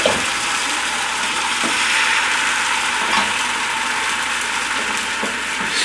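Egg sizzles and fries in an oil-brushed non-stick pan over medium-low heat, giving a steady, dense hiss that runs nearby for the whole stretch without a pause.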